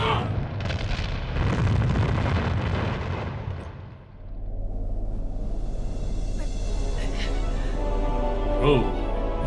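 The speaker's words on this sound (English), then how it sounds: "Oh, explosion." A loud, sustained explosion in the video game Panzer Dragoon Saga rumbles for about four seconds, fading briefly before a low droning game soundscape continues with faint effects.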